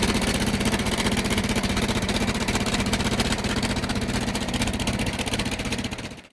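A boat's engine drones steadily throughout a ride on a country boat, a close, loud, rhythmic mid-pitched throb that cuts off abruptly at the end.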